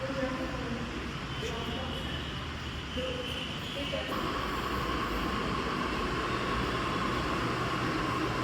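Steady rumbling hum and rail rattle inside a moving metro train in Pune, constant and fairly loud, with a brief tonal change midway as the ride continues.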